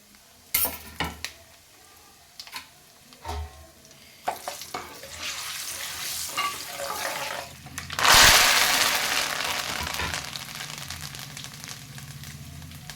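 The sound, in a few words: green chillies frying in oil with mustard seeds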